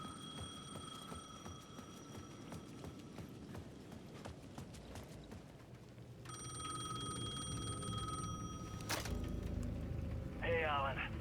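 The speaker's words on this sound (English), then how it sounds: "The payphone at the edge of the plaza was ringing again." In Alan Wake 2, a payphone at the edge of a plaza rings with a bright electronic bell tone that enters midway and rings for a few seconds over steady footsteps and ambient game sounds.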